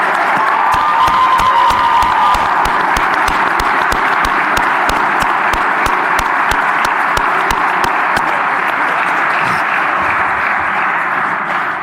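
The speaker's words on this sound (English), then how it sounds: "let's have one more big round of applause for our new inductees" Audience at a 2025 sports hall of fame induction ceremony breaks into a big round of applause for new inductees, with dense, steady clapping and some cheering that holds loud and even for about twelve seconds.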